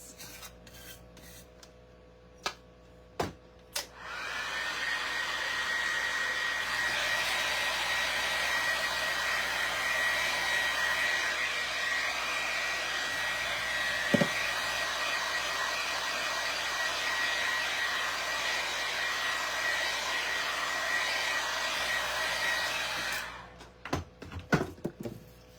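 A handheld hair dryer blows in a steady, even whoosh with a faint high whine for about twenty seconds, close and continuous, preceded and followed by a few sharp clicks and knocks.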